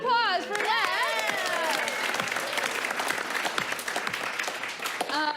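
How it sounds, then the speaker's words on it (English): An audience bursts into applause, dense clapping that swells quickly and holds steady for several seconds, with a voice briefly heard at the start. "Give a round of applause for that."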